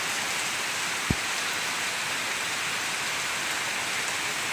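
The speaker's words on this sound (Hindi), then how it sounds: "बारिश भी कम हो चुकी है पहले से काफ़ी" Constant rain hisses evenly throughout, with one brief low thump early on; no one speaks.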